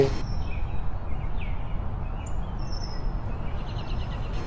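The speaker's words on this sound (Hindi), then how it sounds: "यह एक चिड़िया है" A small bird gives a few short, high chirps and twitters, fairly faint against a steady low rumbling background with no voices.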